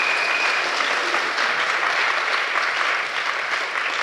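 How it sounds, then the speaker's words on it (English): A large audience claps and cheers steadily and loudly throughout, a sustained wash of applause welcoming two volunteers onto the stage at a live comedy show. "So Sam and Luke, can we give Sam and Luke a huge round of applause when they come up?"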